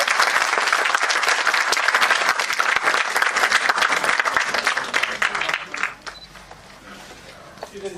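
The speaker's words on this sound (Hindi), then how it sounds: "जोरदार तालियों से सर का स्वागत किया जाए।" A conference hall audience at a national NEP 2020 event gives loud, dense applause to welcome a guest. The clapping holds steady, then thins out and fades near the end.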